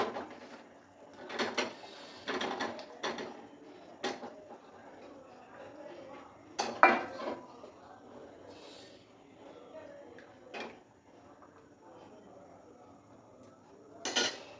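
Cubes of paneer go into butter masala gravy in a pan, with scattered clinks of utensils and pan, light knocks and scraping, and quiet spells between them.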